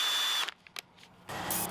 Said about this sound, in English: I'm just gonna drill a double row of holes here, about 1/4 inch apart.